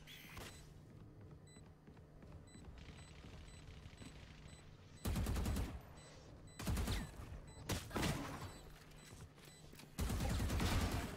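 Gunfire in the video game Valorant on the Ascent map comes in loud bursts and single sharp cracks separated by quieter stretches of faint ambient hum and small ticking cues, ending in another heavy volley.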